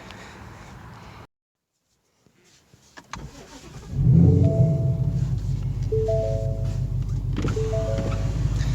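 A Whipple-supercharged 2018 Mustang GT engine cranks after a brief silence, catches and settles into a loud, steady, rumbling idle with a couple of small blips.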